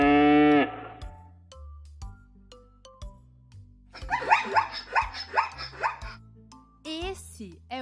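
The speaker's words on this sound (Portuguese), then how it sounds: "Esse é o som do iaque, buscando grama para comer." A yak looking for grass to graze gives a brief, loud, low lowing call at the start, followed by quieter calls and light background music.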